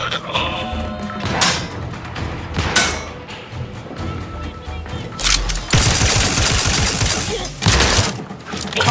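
Gunfire in the video game The Outer Worlds 2, bursts of rapid shots and heavy thuds building into a loud, dense fusillade, with voices talking underneath.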